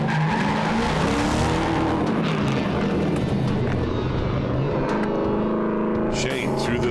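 A drift car slides through a slalom course, its engine roaring loudly and tires squealing continuously, heard close as if riding on board, with a voice briefly audible over it.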